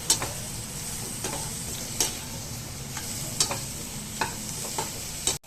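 Mushrooms fry in a pan with onion and chilli powder under a steady sizzle, while a spoon scrapes and knocks against the pan about once a second.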